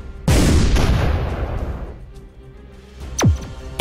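A tank's artillery shot in Shellshock Live booms loudly and decays with a rumbling tail, followed a few seconds later by a sharp whistling shell sound and another burst, with no talking.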